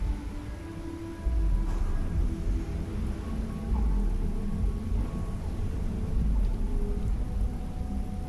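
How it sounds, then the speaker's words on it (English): Steady rain with low rolling thunder rumbles in the video game Starfield, a continuous wash of noise with deeper booms swelling in and out. "It's raining."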